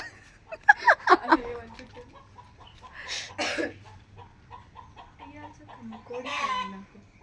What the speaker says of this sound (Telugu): కోడి అట్లా ఏం చూస్తుంది.